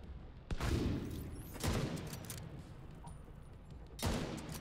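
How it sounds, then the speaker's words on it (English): In The Division 2, distant gunfire and a few heavy booms from a grenade blast sound across the game scene, with three strong impacts standing out over a rumbling background. "You know what, I'm gonna throw a grenade."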